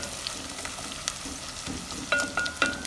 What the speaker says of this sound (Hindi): ये हमारा अच्छे से अदरक लहसुन भून रहा है।